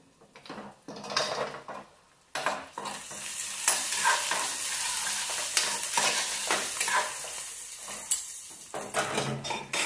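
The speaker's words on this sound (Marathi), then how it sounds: "तुम्ही कांदा भाजी दे तांबूस रंगापर्यंत" Onions frying in a pan until browned for a non-veg thali, a steady close sizzle broken by repeated scraping stirs of a utensil against the pan, with a brief lull early on.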